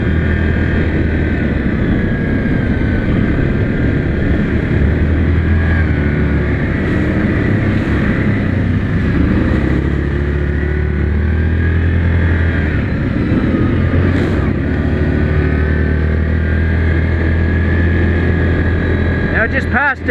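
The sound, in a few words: 2019 Yamaha Grizzly 700 ATV engine while riding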